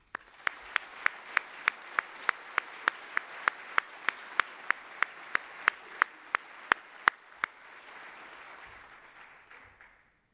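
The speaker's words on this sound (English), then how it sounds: "Let's have a warm round of applause for all contestants." Warm applause from the audience at a 2012 INFORMS Edelman Awards gala for operations research, with loud accented claps over a steady clapping crowd that thins and fades out toward the end.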